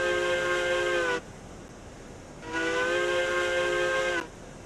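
A K27 steam locomotive, number 55, in the Railroads Online game gives two long, loud, steady multi-tone whistle blasts separated by a short pause, with a low background rumble underneath.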